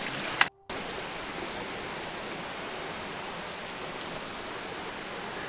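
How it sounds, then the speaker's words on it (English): Creek water running steadily beside a trail shelter on the Pinhoti Trail in Georgia, a broad, even rushing wash that holds constant throughout after a brief dropout near the start, with no voices. "this is a good one, with a stream right there and running water"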